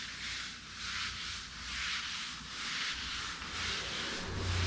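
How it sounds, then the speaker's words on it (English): A buffer works the clear coat on a Camaro Z28 hood with a soft, rhythmic rubbing whoosh that swells and fades in even passes, close up and fairly quiet. "Buffing this part's really fun too."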